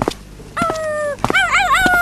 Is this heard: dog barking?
yes